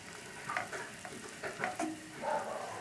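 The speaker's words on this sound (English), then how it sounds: "all I need is a little bit now to saute the okra" Okra sautés in a pan for a mushroom, okra and turkey risotto, giving a soft sizzle with light stirring scrapes at an even, quiet level.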